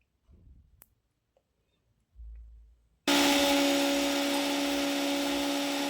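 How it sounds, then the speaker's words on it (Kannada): A mixer grinder starts abruptly after a few soft handling knocks and clicks, then runs at a loud, steady, high whine while grinding roasted gram and salt into a fine powder. "ಒಂದು ಫೈನ್ ಪೌಡರ್ ಆಗೋವರೆಗೂ ಗ್ರೈಂಡ್ ಮಾಡ್ಕೊತಿದ್ದೀನಿ"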